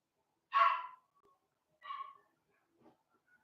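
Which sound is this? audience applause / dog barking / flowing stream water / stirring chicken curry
dog barking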